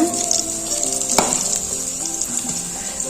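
Garlic, curry leaves and turmeric frying in hot oil, a steady close crackling sizzle throughout with one sharp pop or stir clatter partway, no voices.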